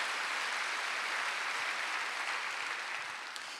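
Congregation applause during a Sunday church service, a dense, even wash of clapping at moderate level that holds steady and tapers slightly at the end.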